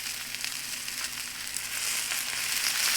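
Brussels sprouts browning cut side down in extra virgin olive oil in a pan, giving a steady, even sizzle of frying with no talk.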